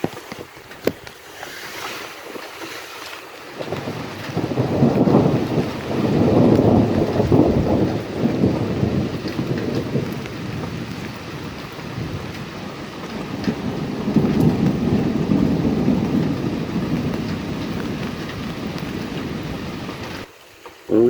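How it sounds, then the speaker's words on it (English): Steady rain pours through a thunderstorm while two deep, rolling rumbles of thunder swell and fade a few seconds apart, with wind-like hiss running throughout and no talking. "Mostly just rain now."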